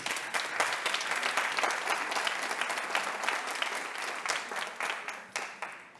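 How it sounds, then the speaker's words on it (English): Steady applause from an audience at an in-person science-policy pitch competition after a presentation, dense clapping holding for several seconds before thinning slightly toward the end. "That's one last applause."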